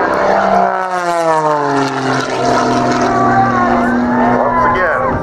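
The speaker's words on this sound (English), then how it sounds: "This airplane is going to be screaming." An Extra 300 aerobatic airplane performing at an air show, its propeller engine screaming loud and close, pitch sliding downward and then rising again as it maneuvers, with a commentator talking over it.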